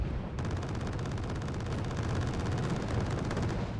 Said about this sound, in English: There's some mortar firing.